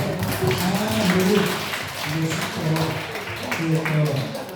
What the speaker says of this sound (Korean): 박수 한번 우리 며느리에게